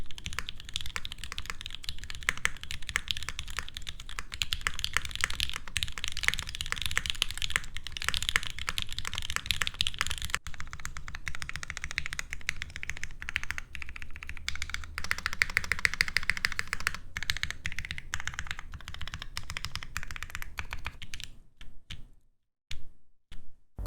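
Steady typing on a gasket-mount mechanical keyboard with Gateron Ink V1 switches: dense, rapid poppy keystrokes close up, continuing for about twenty seconds before a few final isolated presses.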